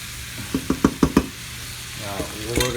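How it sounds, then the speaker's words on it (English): Marinara sauce hits meat frying in a pan: five quick knocks ring out, then a bubbling sizzle builds up close by. "once you add this sauce to the actual meat, we're going to go ahead and allow it to simmer"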